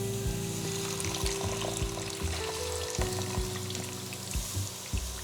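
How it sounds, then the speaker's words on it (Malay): Tamarind water poured into a pot of fish head curry with oil and spices, a steady splashing pour over loud sizzling and frying, close and continuous throughout. "Dan sekarang kita masukkan air asam jawa ya."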